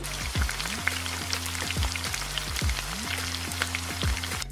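Creamy Cajun chicken cooks in a pan with a constant soft sizzle and crackle, while a repeating low mechanical whir with falling sweeps runs beneath it.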